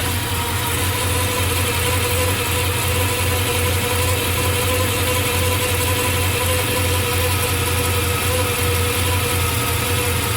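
A 400 cubic inch Chevy V8 in a 1994 Chevy Silverado runs steadily during a cylinder compression test, a continuous close, loud idle with a droning low rumble and no talk.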